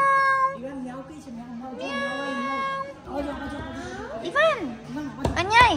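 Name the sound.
cat meowing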